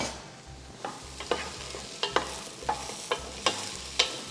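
Mushrooms and softened onion stirred in a hot frying pan, a steady sizzle with repeated scraping strokes of the spoon at a regular pace, close up and with no talking.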